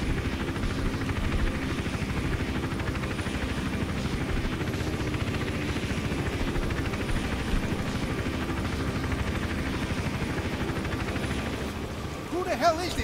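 Steady helicopter rotor drone from the Hitman Absolution video game, a broad continuous chopping roar holding at even loudness with no voices over it, ending in a brief sharp burst.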